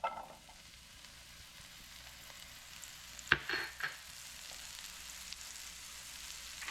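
Pork chop and mushrooms frying in a pan give a steady, quiet sizzle, with a brief clatter of stirring or utensil contact partway through.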